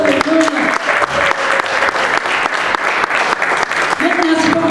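A church congregation bursts into warm, sustained applause in praise of God, a dense steady clapping from many hands filling the room for several seconds, with voices cheering among it.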